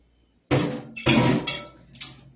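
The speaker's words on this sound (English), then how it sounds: "Now it's going in 350 for about 40 minutes." A baking dish is set into a home oven to bake at 350 degrees, giving a few close clattering clunks of metal and glass against the rack in quick succession.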